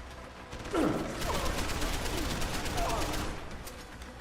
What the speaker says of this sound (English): Combat rifle shooting.